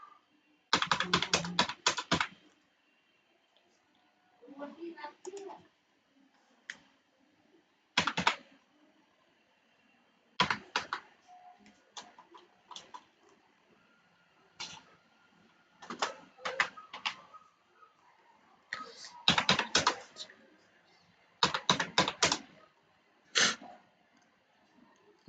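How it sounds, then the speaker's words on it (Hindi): Bursts of fast clicking keystrokes on a computer keyboard come from someone typing in a roll number, arriving in short, close clusters separated by quiet pauses. "अब यहाँ पे रोल नंबर टाइप कर लेंगे।"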